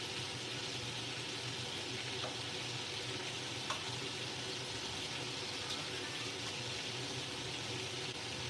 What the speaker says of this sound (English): they say sear on both sides for 2 minutes